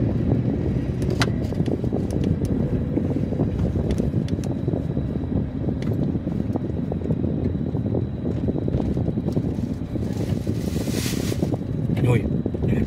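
Strong wind roars steadily past, a dense, unbroken rush with faint higher hiss and a few sharp ticks, close and loud throughout, with no clear speech.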